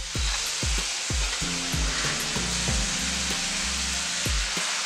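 Pork chops sizzling as they go back into a skillet with mushrooms for teriyaki, a loud steady hiss of frying, with low thumping knocks repeating throughout underneath.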